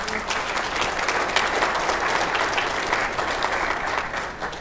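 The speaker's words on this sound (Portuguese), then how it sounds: "uma salva de palmas para o Pedro" A crowd claps steadily in sustained applause, many hands at once, even and loud, tapering slightly at the end.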